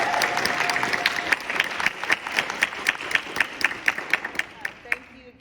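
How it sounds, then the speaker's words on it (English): An audience at a senior speeches event gives a round of applause, with steady clapping from a modest crowd that builds into regular, fairly close claps before fading. "Could we have another round of applause for this?"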